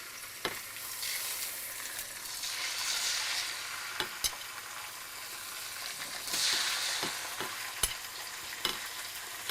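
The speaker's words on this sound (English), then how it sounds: "We're going to put the pork chops, and we're just going to brown them on both sides" About 3 pounds of pork chops browning in a pan, a steady soft sizzle with occasional sharp pops and scraping clicks, fairly quiet and close, with no voices.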